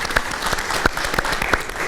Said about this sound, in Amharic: በደንብ አጨብጭቡላችሁ